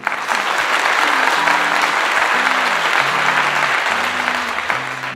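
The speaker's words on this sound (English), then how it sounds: "Cue the applause, shall we?" Steady, dense applause rises right away and holds at an even level for several seconds, with a low musical tone underneath, opening a home decor DIY segment.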